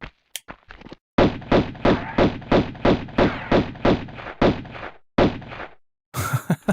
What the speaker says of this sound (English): Let's shoot him up with the pistols.